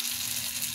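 Vegetable spring rolls (lumpiang gulay) fry in a pan with a dense, even sizzle heard up close, alone and unbroken for a brief moment.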